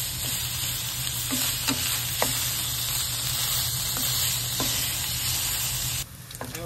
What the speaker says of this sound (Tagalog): Igigisa ko sa sarili niyang mantika.